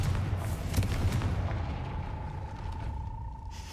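A Confringo blasting spell explodes in a Harry Potter video game, giving a dense, rumbling boom that fills the whole moment and then fades under a steady sustained tone.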